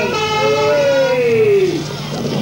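A police car siren wails at the 1986 Sinfin Moor Church Christmas fayre, one loud, close sweeping tone that slides downward and then fades, with a vehicle rumbling underneath.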